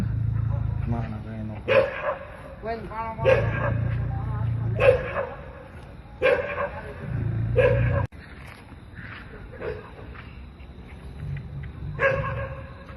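A dog barks repeatedly in short, loud bursts a second or two apart, with people talking in between.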